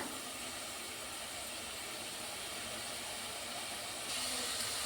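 Onions with cardamom and masala frying in a pan, a steady broadband sizzle that holds evenly throughout and grows slightly louder near the end, with no voices.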